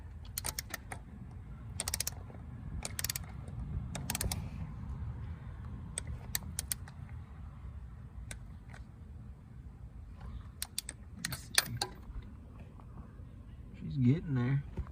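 A ratchet with a deep socket tightens a bolt on an Oldsmobile Cutlass in a series of quiet, sharp clicking bursts spaced across the stretch, over a faint background hum, with a little talk.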